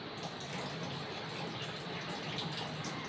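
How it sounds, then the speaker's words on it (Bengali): Cold water pours steadily into a mango lassi being made at home, a continuous close splashing gush with no talk over it. "অ্যান্ড পরিমাণ মতন ঠান্ডা জল দিচ্ছি"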